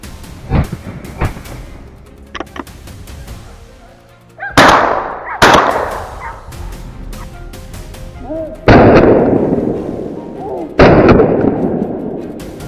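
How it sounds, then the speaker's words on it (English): Rifle shots at a wild boar in tall grass on a Texas farm, several sharp loud cracks spaced apart, each followed by a ringing decay, with smaller pops in between. "Leon quietly raised his rifle, tracking every step it took and squeezed the trigger. One clean shot"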